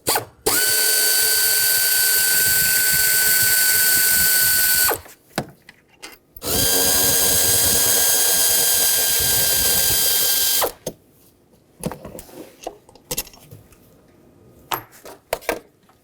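A ratchet wrench removing the throttle body bolts on a 2013–2020 Nissan Pathfinder 3.5L V6, heard as two long, loud, close bursts of rapid clicking, followed by scattered softer taps and clinks.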